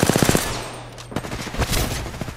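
Video game gunfire opens with a rapid rattling burst of automatic shots, then a few scattered, sharper reports follow close by as the exchange continues.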